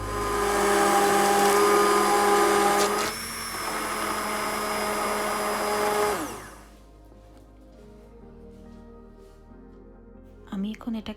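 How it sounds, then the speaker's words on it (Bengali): A hand blender whirs loudly through cooked dal for about six seconds, its motor pitch dipping briefly partway through, then it stops, leaving quiet with a few faint clatters near the end. "আমি এখন এটাকে ভালো করে হ্যান্ড মিক্সচার বা হ্যান্ড ব্লেন্ডার দিয়ে ব্লেন্ড করে নেব।"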